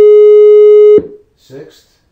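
A pure sine tone at the fifth harmonic of a fundamental holds loud and steady for about a second, then stops abruptly, followed by a brief spoken voice.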